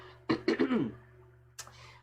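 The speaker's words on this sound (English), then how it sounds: "let me clear my throat." A person clears their throat with a few rough, guttural rasps close by, followed by a short breathy exhale.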